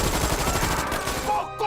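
Brutal gunfire in a film scene, a loud rapid burst of close shots with a dense rattling texture that fades out within a couple of seconds.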